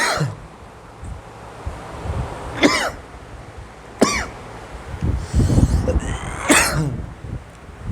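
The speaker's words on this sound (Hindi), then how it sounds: "खांसी थोड़ा आ गया था" Several sharp coughs spaced a second or two apart, close to the microphone, with rustling noise and breathing between them.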